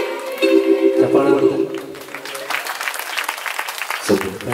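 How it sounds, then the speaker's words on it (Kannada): An audience claps along to a devotional Hanuman song, a busy patter of hands under sung and spoken voices that swell and drop as a voice leads the singing. "ಚಪ್ಪಳ"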